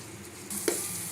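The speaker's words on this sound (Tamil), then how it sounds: "இஞ்சி பூண்டு பேஸ்ட் ஆட் பண்ணுறேன்" Ginger garlic paste frying in a pan, a faint steady sizzle with one brief scrape as it is stirred.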